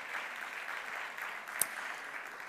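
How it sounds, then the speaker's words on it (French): Steady applause from a crowd at an awards ceremony, a dense even patter of clapping held at moderate level throughout, with no voices over it. "On peut les applaudir pour ce bronze ex aequo."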